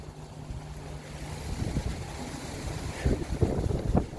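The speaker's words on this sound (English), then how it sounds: "bitterly cold wind." Bitterly cold wind gusting across a garden, a steady low rumble of buffeting against the microphone that builds toward the end with stronger bursts, heard alone.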